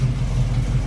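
A 1968 Chevrolet Camaro Z28 tribute idles with a steady, close, low rumble from its exhaust, loud and even with no voices.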